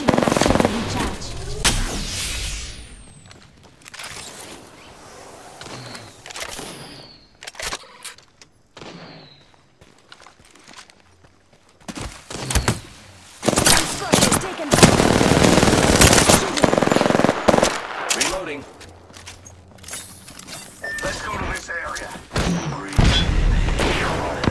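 Apex Legends battle gunfire, heavy automatic bursts and single loud shots coming in waves, with quieter lulls, clanks and thuds between, and a voice talking at times.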